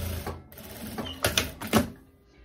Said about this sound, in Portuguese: vamos passar uma costura em cima da malha